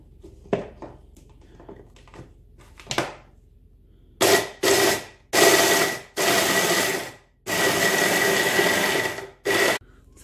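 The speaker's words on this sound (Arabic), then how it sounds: "صافي غادي نطحن هادشي هذا" Electric food processor grinding Oreo biscuits with melted margarine, running in a series of loud pulses of varying length after a few soft handling knocks, close and alone.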